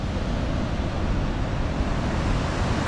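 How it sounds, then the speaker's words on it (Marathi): Water rushes out through the gates of Girna Dam, a dense, steady, loud roar with no pauses, heard close and without any voices. "हा प्रवाह बघा पाण्याचा कसा आहे."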